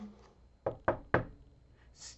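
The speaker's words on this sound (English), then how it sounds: "Soon after he heard someone knocking." Three evenly spaced knocks on a door, solid and close, with a quiet pause before and after.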